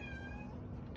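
A pet cat gives a single short meow in the morning, close but faint, over a low background hum.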